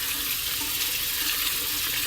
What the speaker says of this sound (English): So I'm just going to wash these real quick and then we'll move on.